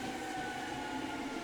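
Hankyu 3300 series train on the Kyoto Line running as a semi-express between Umeda and Takatsuki-shi, its steady interior running noise a continuous rumble with a faint sustained motor whine and no voices.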